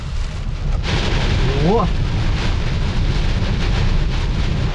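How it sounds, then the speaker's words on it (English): Heavy rain and gusting wind roar around a vehicle driving through a thunderstorm in Jackson County, Iowa, a loud, constant wash of noise, with a brief voice cutting in partway through. "Rain is coming down, the wind is blowing."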